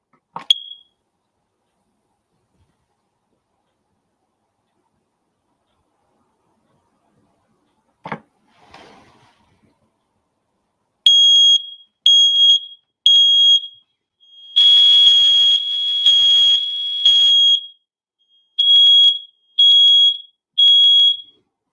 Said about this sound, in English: let's test the alarm